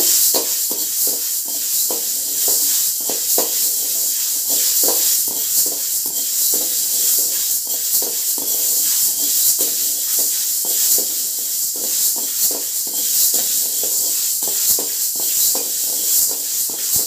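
Green gram (mung beans) dry roasting in a pan over a low flame, giving a continuous soft hiss with steady scraping and stirring taps throughout.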